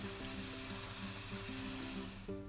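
Beef and Korean kimchi are stir-fried over high heat in a wok, giving a soft, continuous sizzle. Faint steady tones sit in the background, and no one talks.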